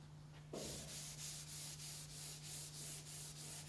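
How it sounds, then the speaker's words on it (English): Dry sanding of a surface by hand or machine, starting abruptly after a brief quiet moment, then a steady abrasive rasp with regular rhythmic strokes, close and continuous under a constant low hum. "as seen here with dry sanding"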